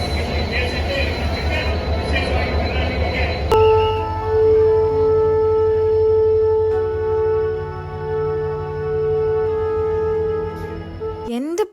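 A decorated train sits at a crowded railway station on its inaugural run. A rumbling engine and crowd noise cut off suddenly, giving way to a long, loud tonal squeal or horn that holds and then drops at the end, with voices underneath.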